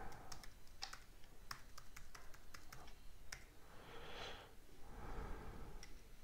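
Code is typed quickly on a computer keyboard, and the quiet keystrokes come in brisk runs. The typing thins out in the second half over a faint hiss of room noise.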